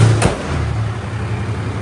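A 3rd Gen Cummins diesel truck backing out of a shop, with a steady low engine rumble close by and a brief knock near the start.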